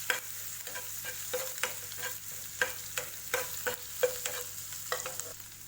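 Garlic, ginger and chopped green chili sauté in a pan, a soft steady sizzle broken by repeated scraping stirs of a utensil at an uneven rhythm.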